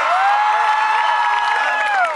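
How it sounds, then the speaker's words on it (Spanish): A huge concert crowd of about 55,000 at a Carnaval de Mazatlán 2017 show cheers, whoops and applauds in a loud, continuous roar, with sustained shouts and whistles running through it. "vamos a darle un fuerte aplauso"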